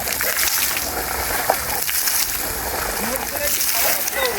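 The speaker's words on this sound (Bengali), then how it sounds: "দেখতে পাচ্ছ খুবই সুন্দরভাবে জলটা মারছে" A repaired water fountain sprays steadily outdoors, a broad hissing rush of water running throughout while someone talks over it.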